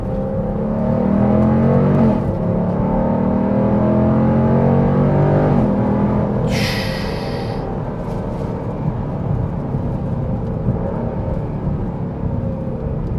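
A 2024 Dodge Durango SRT 392 surges forward on a test drive, its big V8 roaring loud and close as it pulls hard. A brief higher whine cuts in midway, then the engine note eases into a steadier drone.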